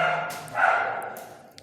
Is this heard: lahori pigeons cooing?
no